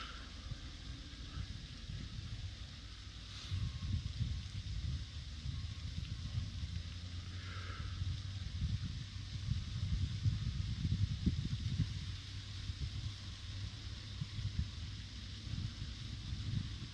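Wind gusting across an open fishing lake, a steady low rumble and buffeting that rises and strengthens midway, with faint background hiss and no talk.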